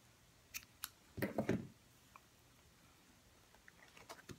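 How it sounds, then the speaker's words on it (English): Scissors snipping through paper folded four times for a Halloween treat box, a few sharp close cuts clustered together, then faint rustling handling. "I'm going to fold it 4 times. I'm going to cut right here."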